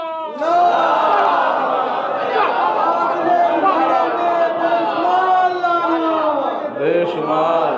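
A large religious gathering in Dewariya, Hanumanganj, during Ayyam e Fatima, where the audience loudly chants the salawat slogan together. A dense, sustained wall of many voices fills the whole stretch.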